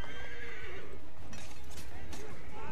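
A horse in Assassin's Creed III gives a loud, close whinny amid clip-clopping hooves and busy game noise, with a voice talking over it.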